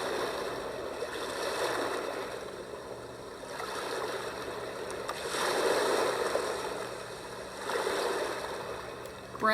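Ocean setting on a Big Red Rooster white noise machine plays surf that swells and recedes in slow waves every few seconds over a continuous watery hiss, close and moderately loud.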